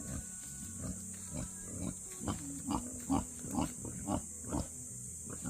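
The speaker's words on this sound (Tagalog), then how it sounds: "malaki-laki na pala yung baboy na to ah" A native pig grunts close by in a rhythmic series of short, low snorts, roughly a dozen in quick succession over a faint background hiss, with no talking.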